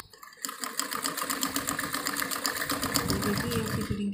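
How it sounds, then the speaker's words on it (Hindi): A sewing machine stitches the sleeve of a shirt, producing a continuous fast, rhythmic whir and tapping of the needle that stays close and steady throughout. "जैसे हमने पहली बाजू पर सिलाई लगाई थी उसी तरह सिलाई लगाएंगे"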